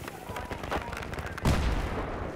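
Gunfire and explosions in the Battlefield 3 video game crackle in rapid bursts, with a heavy low blast about halfway through, and a voice talks faintly underneath.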